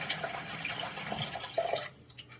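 Tap water runs and splashes while a Pilot 912 fountain pen feed is rinsed of leftover ink. The flow is steady and close, with small drips and gurgles, and it tapers off near the end. No one speaks.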